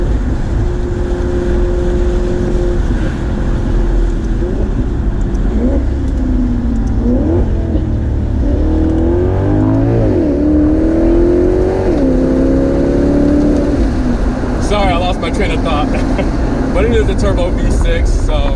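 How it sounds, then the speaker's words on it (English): Maserati GT Convertible with a turbo V6 hybrid engine, heard close and loud with a steady rumble that rises and falls through several revs. A voice talks over the engine near the end. "But you know, it is a V6 hybrid."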